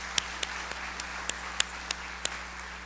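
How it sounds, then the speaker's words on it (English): A few scattered hands clap in sparse, evenly spaced claps over a low room hum at a school district State of the Schools event, thin and moderately distant applause. "round of applause"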